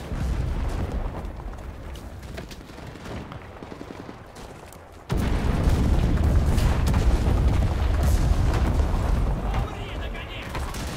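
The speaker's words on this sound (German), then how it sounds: "Die Artillerie ist toll." Artillery fire rumbles through a World War II shooter match, with booms, gunfire and heavy explosions layered together, swelling suddenly louder midway, while a player talks over the battle.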